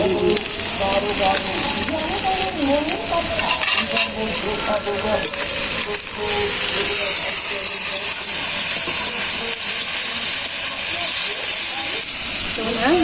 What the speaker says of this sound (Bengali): পেঁয়াজ মরিচ মাছ একসাথে ভেজে নিচ্ছি